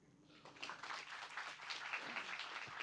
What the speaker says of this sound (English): Can we give a round of applause for Pak John, everyone, once again?